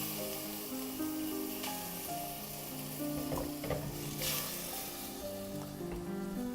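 Turkey and onion sizzle in a pan at a steady simmer, with occasional stirring clinks and scrapes over the constant frying hiss.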